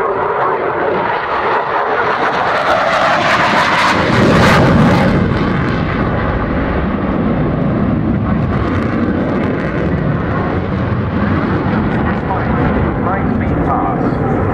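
A Royal Netherlands Air Force F-16 jet makes a high-speed pass at an air show, a loud, continuous, rumbling roar that surges and then stays heavy throughout. An announcer talks over the public address system during the pass.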